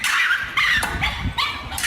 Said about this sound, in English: picking up his dog before beating it with a shovel